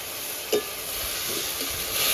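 Water lily stems hit a pan of fried garlic with a steady sizzle of frying, close up, and a few faint scrapes as they are stirred. No one speaks.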